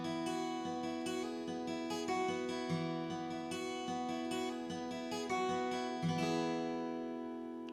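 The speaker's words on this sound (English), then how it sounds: "that beautiful picking part that we hear at the very start" Acoustic guitar fingerpicks the intro of a song, a steady, bright, ringing pattern of plucked notes played alone and close.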